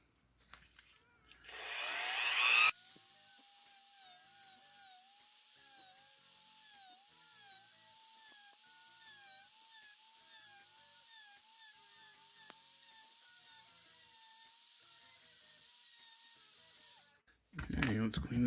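Rotary tool trimming plastic on an action figure, a continuous high-pitched whine held for about fifteen seconds with slight pitch wobble, bracketed by brief louder handling noise at start and end.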